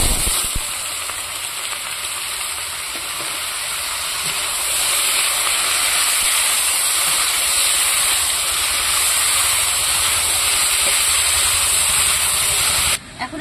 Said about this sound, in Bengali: ফোড়নটা ভালো করে ভেজে নিয়েছি, এখন এখানে কেটে রাখা টমেটো গুলো দিয়ে দেবো